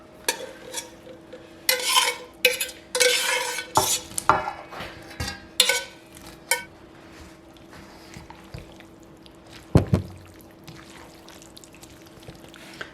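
A spoon stirs and scrapes through a charred cabbage mixture in a bowl, irregular bursts of clattering and wet mixing, close and fairly loud, with a sharp knock near the end.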